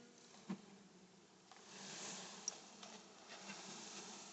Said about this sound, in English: there's a big old pile of bees